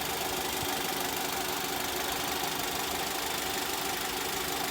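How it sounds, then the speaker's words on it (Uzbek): A car engine idling at an even, steady tempo, a continuous low rumble with a faint knocking texture, close and unbroken, with no voices. "mashinaning ovozini eshitinglar bitta"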